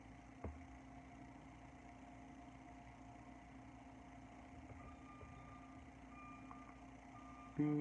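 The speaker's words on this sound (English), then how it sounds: "Beep beep beep. Somebody's backing up." A truck backing up gives off faint, distant repeating reversing beeps over a quiet, steady background hum.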